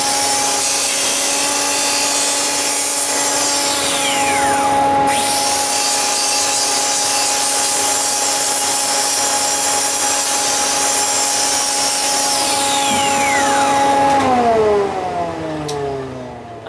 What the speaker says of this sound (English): So I've got my dust extractor hose again